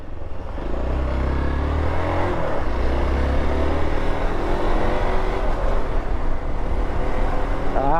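A Hero Xpulse 4V motorcycle being ridden, its single-cylinder engine droning and climbing through revs close by, with rising pitch sweeps as it accelerates over a steady ride.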